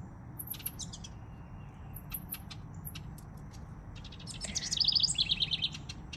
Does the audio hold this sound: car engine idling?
no